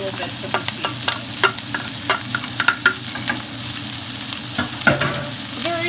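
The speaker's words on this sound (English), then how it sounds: "you're gonna let that saute." Tinned mackerel sautés in a pan, a continuous close sizzle broken by frequent sharp scraping stirs at an uneven rhythm, with no one speaking.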